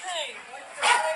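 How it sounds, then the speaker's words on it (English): A dog barks and yips in short bursts amid a tense police stop where officers shout at a mother and child, with voices talking over the dog throughout. "Can you hear the dog barking?"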